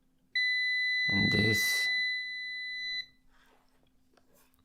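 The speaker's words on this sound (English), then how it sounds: "if it beeps, it means there is connection between these 2 points" A multimeter on its continuity setting gives one steady electronic tone of about three seconds, clear and close, while a voice speaks briefly over the start of it.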